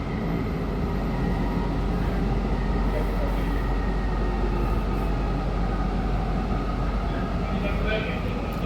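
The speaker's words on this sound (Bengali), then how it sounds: "এই যে স্টেশন আসছে, অটোমেটিক দাঁড়িয়ে গেছে।" A metro train braking into a station, with a loud, steady low rumble and rolling noise from inside the carriage throughout and a voice heard over it.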